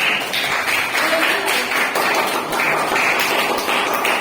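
A class applauds a student presenter before her talk on the Kutai Kingdom, with dense, steady clapping that fills the room.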